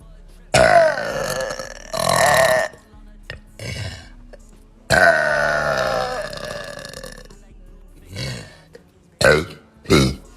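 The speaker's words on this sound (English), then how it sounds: "do more burps." A series of loud, long, close burps from a girl, several drawn-out belches separated by brief pauses and a few shorter ones at the end.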